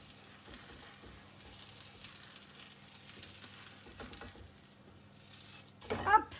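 A vegan gluten-free chickpea galette searing in oil in a hot pan, a steady soft sizzle and frying crackle throughout, swelling into a louder hiss and clatter at the end.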